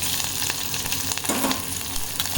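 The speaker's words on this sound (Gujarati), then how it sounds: "મરચાં નાખીને આપણે હલાવીશું." Green chillies sizzle and crackle as they fry with browned onions in a pan, with steady close frying noise and occasional stirring scrapes.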